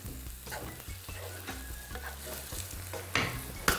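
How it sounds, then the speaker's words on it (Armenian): Ingredients stirred and frying in a pan during preparation of hemp dolma, with a steady close sizzle, soft scraping strokes and a few sharper utensil clicks near the end. "Նախ խառնենք"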